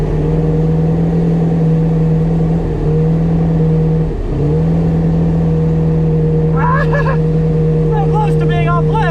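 A loud, steady engine drone from a 1990 Cobalt motorboat accelerating, dipping briefly before holding its pitch, with voices breaking in toward the end.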